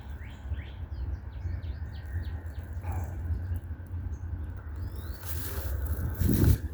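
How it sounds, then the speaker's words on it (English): Birds chirp and trill repeatedly in the distance in woods by a river, over a low, steady background rumble, with a few brief rustles toward the end. "There's wildlife in here. Listen to all the birds."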